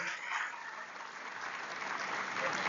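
An audience at an annual teachers' meeting of an education group claps steadily and loudly for a few seconds, a dense continuous round of applause.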